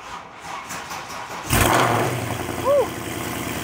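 A car with VRP cams and long-tube headers cold-starting in chilly weather: a quiet crank, then the engine catches with a sudden loud, rumbly burst and settles into a lumpy, close idle with a brief rev.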